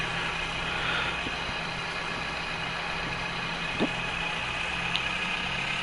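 Tractor engine in the video game Professional Farming 2017, a faint, steady idling hum running throughout, with a couple of brief soft clicks.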